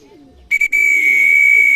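A racing pigeon at a loft gives a sudden clear, sustained whistling call after a brief quiet stretch, close and loud, with only faint background sounds.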